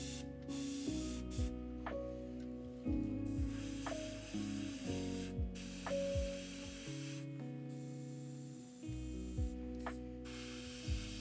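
An airbrush sprays paint onto a Kingdom Death Phoenix miniature, giving a steady close hiss that runs through the whole stretch beneath louder, shifting musical tones.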